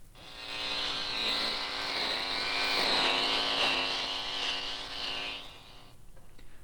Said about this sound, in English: Does your father have an electric razor?